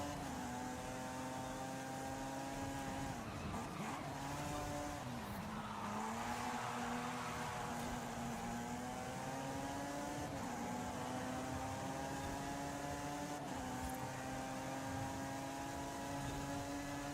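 A race car in a driving video game holds a steady engine whine that rises and dips through gear changes and corners, with brief tire noise, a continuous loud tone and no talking.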